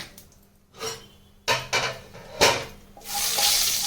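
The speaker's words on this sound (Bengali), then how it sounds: "এবার কড়াইতে আমি কালো জিরে ফোড়ন দিয়ে দিচ্ছি।" Nigella seeds hit hot oil in a wok after aubergine frying, with scattered clanks of a utensil against the pan, then a rising, steady sizzle that fills the last second and a half.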